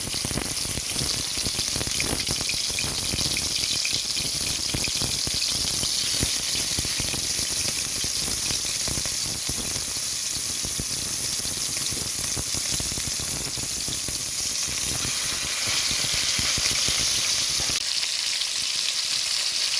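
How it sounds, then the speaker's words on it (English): Beef searing in hot oil in a pot, a loud, continuous sizzle and spitting fry that holds steady for a long stretch with no voices. "So adding my beef to the hot oil."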